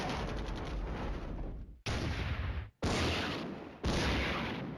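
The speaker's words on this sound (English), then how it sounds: "that was the mortars" Mortar fire in the tank war game Flashpoint Campaigns: Germany Reforged, heard as loud, heavy booming blasts, a long rumbling roll followed by three more sharp impacts at regular intervals, each decaying into rumble, with no voices.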